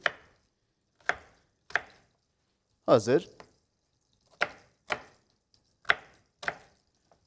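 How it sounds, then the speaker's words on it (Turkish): Raw chicken is cut into large cubes with a knife on a board. Sharp, separate chops land at an uneven, unhurried pace, close and distinct, with a brief word spoken partway through. "kuşbaşı şekilde iri iri doğruyoruz, kenara alıyoruz"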